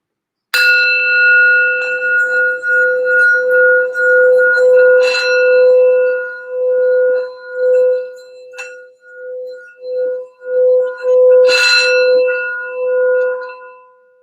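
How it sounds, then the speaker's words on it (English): A sound bell is struck for healing and grounding, ringing out with a clear sustained tone that fades slowly, then is struck again near the end and rings on alone. "I wanted to do a quick sound bell just for some healing and grounding for the reading."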